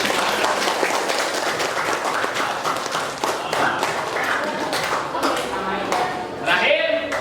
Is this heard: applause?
yes